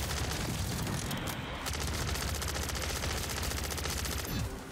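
Rapid sustained SMG fire from an HRM9 in MW3 Zombies, loud and dense bursts running almost the whole time with a brief break, no talking.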